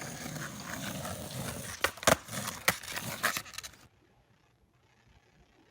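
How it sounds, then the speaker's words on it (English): A kid does an ollie on a skateboard outdoors: rolling wheel noise, then a quick series of sharp wooden tail snaps and board clacks before the sound cuts to near silence. "That's a kid doing an ollie on his skateboard."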